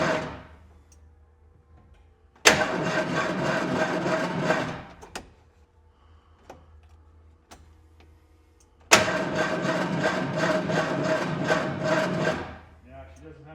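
A 1923 Ford Model T engine cranks over in two long bursts of rapid, even mechanical chugging, each several seconds, separated by a quiet pause with faint clicks, but it never catches and runs.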